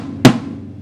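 One heavily damped strike on a Pearl fiberglass concert tom gives a short, dull, boxy thud with almost no ring, heard alone and close.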